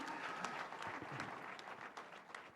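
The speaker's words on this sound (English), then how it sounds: "These guys deserve a round of applause." Audience applause at a live motivational event in Africa, a fairly faint, steady patter of many hands clapping throughout, with no talk over it.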